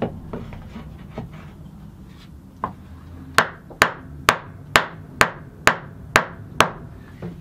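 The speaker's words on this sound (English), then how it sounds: "This is where I'll grab a scrap block of wood and a hammer and tap the plates into the wedge." A hammer strikes a scrap wood block to tap acoustic guitar plates into a wedge for joining, starting with a few lighter knocks and then eight sharp, evenly spaced whacks close by.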